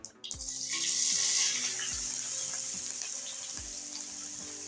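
Chopped onions hit hot oil already crackling with popped mustard seeds and asafoetida for a potato curry, a dense, steady sizzle rising sharply at the start and holding close and loud throughout, with soft tonal music underneath.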